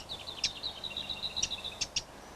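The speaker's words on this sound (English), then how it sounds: "The wren's alarm call is also heard frequently, including when fledglings are around" A wren sounds its alarm call in a British garden: repeated sharp, bright chips and a thin high trill, close and fairly clear over quiet background.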